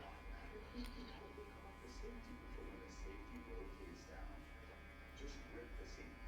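An electric hair clipper hums faintly with no guard while a low fade is blended, its soft buzz running steadily beneath a person speaking close by.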